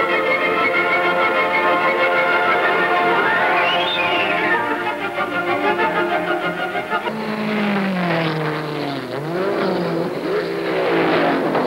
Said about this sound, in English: Racing to victory in the German Grand Prix, and hot on his tail, the British driver Stirling Moss